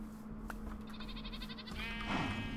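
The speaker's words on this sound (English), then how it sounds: "Got some goats here." Goats bleat in the Minecraft video game: a short wavering call followed by a louder, drawn-out bleat, heard close and alone over a faint background hum.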